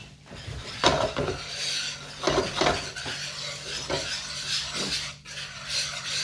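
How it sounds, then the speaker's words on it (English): A whisk stirs cheesy bacon pasta sauce in a pan, irregular scraping and clinking strokes of metal against the pan with a faint sizzle beneath, close and unaccompanied by speech. "I'm going to grab the whisk"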